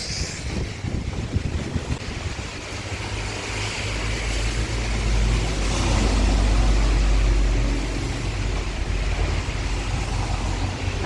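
Steady, dense hiss of rain in Saudi Arabia with a low wind rumble, swelling louder around the middle and easing again; no voices.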